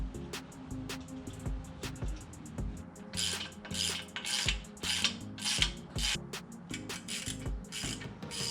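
A ratchet tightens nuts on a Ford 9-inch axle third member, giving a long run of close, rhythmic clicking strokes with brief scraping and metal handling sounds in between.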